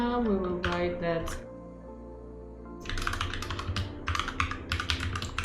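Code being typed on a computer keyboard: quick bursts of clicking keystrokes, close and clear, following a stretch of someone talking.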